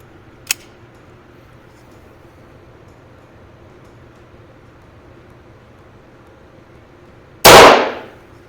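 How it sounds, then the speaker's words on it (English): A single shot from a 1926 Hartford single-shot .22LR target pistol cracks sharply near the end, preceded by a faint tick earlier and quiet outdoor background. "I'm gonna shoot 10 shots and then we'll get out of here"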